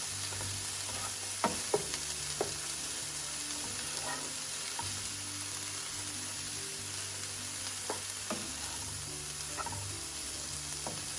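Curry shrimp with milk frying in a pan, a steady, continuous sizzle broken by a few sharp clicks and scrapes as the food is stirred and mixed, close up and with no voices.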